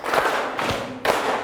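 Three firm group hits of thigh-slapping and clapping from a class doing a body-percussion ice-breaker, close and fairly loud with short room echoes between beats.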